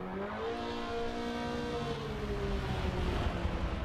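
A Mazda race car's engine in a racing video game at Lime Rock's South Chicane, holding a loud, close, steady drone that shifts pitch as it revs through the corner.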